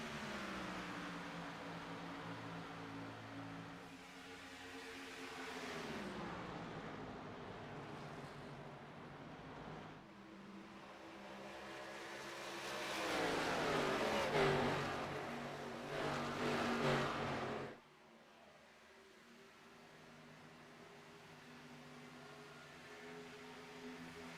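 Race car engines droning steadily in a racing video game as cars complete laps, with sustained revving tones that rise and fall as they pass, building louder mid-lap before dropping to a quieter hum.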